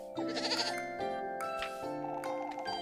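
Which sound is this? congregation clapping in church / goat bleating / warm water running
goat bleating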